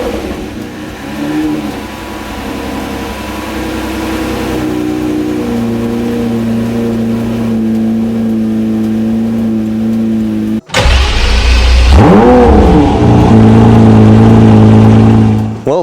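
A Lamborghini Murciélago engine cranks and catches, settles into a steady idle, then cuts out briefly before firing again with loud, rising revs.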